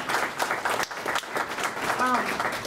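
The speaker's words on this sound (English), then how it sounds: "I'd like to give you a quick round of applause" Audience applause at a student government inauguration, a busy continuous round of clapping with a speaker's voice briefly audible over it near the end.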